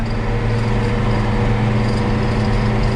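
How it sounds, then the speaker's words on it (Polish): A 1996 Ursus 1234 tractor engine running steadily up close, a loud, even diesel drone with deep low rumble and no talking. "A więc już no ciągnik bardzo ładnie pracuje, silnik."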